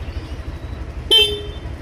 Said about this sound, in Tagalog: syempre, di mawawala yung busina.